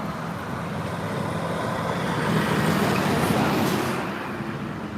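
Street traffic rolls past outdoors, a steady broadband roadway rumble that swells as a vehicle goes by mid-way and then eases off, with no clear talk.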